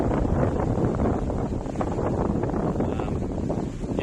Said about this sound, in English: the wind tonight was insane. It's so windy.